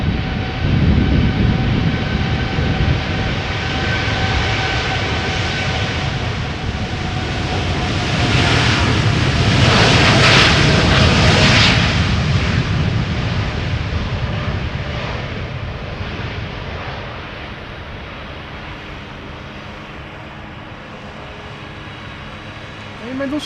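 Air Canada flight 809 jet taking off on the Polderbaan runway at Schiphol, a loud, sustained engine roar that builds to a peak midway and then slowly fades as the aircraft climbs away.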